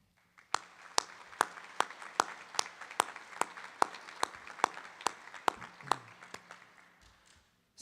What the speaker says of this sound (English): I ask our students to please join me in a round of applause for all of you